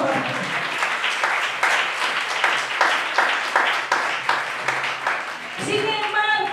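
A church congregation claps in praise during a sermon, a dense patter of applause with voices mixed in, fading toward the end.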